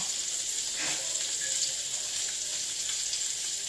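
Shrimp fry in oil in a pan with a steady, close, even sizzle, loud and unbroken throughout, with only faint stirring touches.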